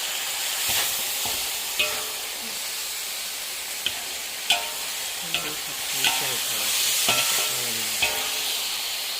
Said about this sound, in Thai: ช้านี้นะคะทำหมูผัดถิงใส่บาตร